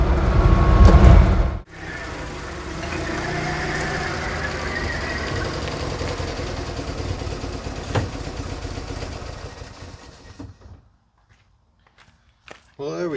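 An Invacar three-wheeled invalid carriage drives along with a steady, fairly loud engine drone and road rumble that holds for about ten seconds, then cuts away to near silence with a few faint knocks.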